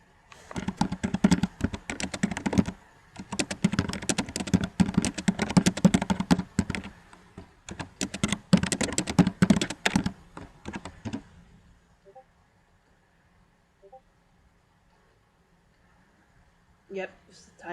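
Rapid typing on a computer keyboard, close and crisp, in bursts of clustered keystrokes with brief pauses, stopping abruptly before a long near-silent stretch and a few stray taps at the end.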